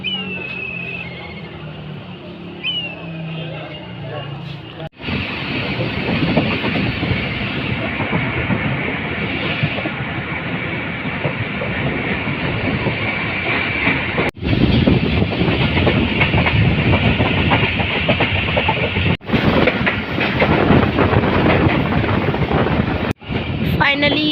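Bahauddin Zakariya Express pulling away from Shujabad station: a loud, steady rumble of rolling wagons with clattering wheels that swells after a few seconds and stays close and continuous, broken by brief sharp dropouts.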